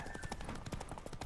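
Horse galloping during a race in the video game Witcher 3: rapid, evenly spaced hoofbeats thud along at a steady rhythm over a continuous wash of background game noise.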